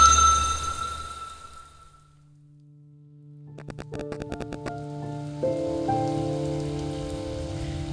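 Rain falls steadily as a soft patter, faint at first, then continues beneath gentle ringing tonal notes that layer in and build.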